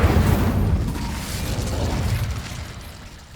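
An Incendio fire spell goes off in Hogwarts Legacy, a heavy booming burst up front that rumbles and fades away over a few seconds.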